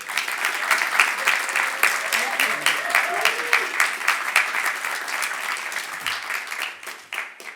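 An audience at a graduation ceremony claps to welcome a speaker onto the stage, with dense, even applause running throughout and easing slightly near the end.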